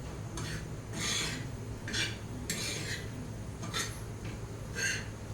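Freshly grated wet coconut is dry-roasted and stirred in a pan, giving repeated soft scraping rasps of a utensil against the pan at a steady, unhurried rhythm, close and moderately quiet.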